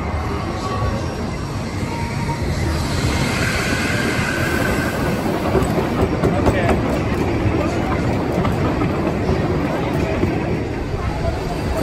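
A ride on the Thunderbolt wooden roller coaster at Six Flags New England gives a steady, loud rumbling clatter of wheels on track throughout, with rider voices and crowd babble mixed into the roar.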